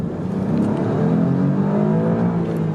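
A 2019 Alfa Romeo Giulia Quadrifoglio accelerating in normal driving mode, its engine note rising steadily and loudly as it pulls, with a constant whirring drone and no talking.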